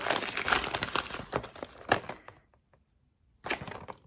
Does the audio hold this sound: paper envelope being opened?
yes